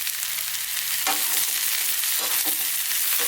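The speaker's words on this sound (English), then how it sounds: "So again, on this maximum heat, let's go just for about another 3 minutes, stirring all the time." Regular white fresh mushrooms stir-fry over maximum heat in a hot pan, giving a loud, continuous sizzle broken by several scraping stirs of a utensil.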